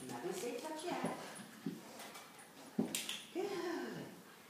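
A puppy whimpers and yips softly during a reward-based touch training game indoors, short high whines scattered between a person's quiet speech.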